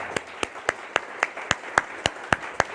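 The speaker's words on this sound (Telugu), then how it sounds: "గట్టిగా ఎందుకు చప్పట్లు కొట్టమంటున్నానయ్యా" An audience at a spiritual discourse claps together in a loud, steady beat, with about ten sharp, evenly spaced claps and no talking.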